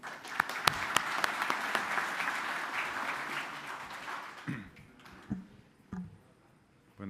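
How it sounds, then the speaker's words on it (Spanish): An audience at an agricultural pesticide-safety event bursts into loud, dense applause that gradually thins and fades to a few scattered claps. "acompáñenme a darles un fuerte aplauso."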